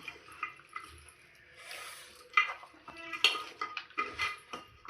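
A spoon stirs goat meat with oil, salt and chili in a metal dish, producing scraping clinks and wet squelching, close and soft with a few sharper taps.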